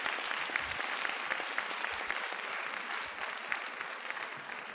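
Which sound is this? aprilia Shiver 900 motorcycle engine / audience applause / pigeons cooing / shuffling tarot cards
audience applause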